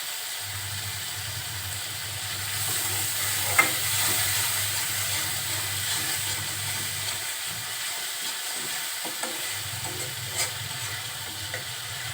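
Spice paste for a fish curry with snake gourd sizzles steadily in a pan, a soft continuous frying hiss with faint scrapes and clicks of stirring and a low hum coming and going, with no voices.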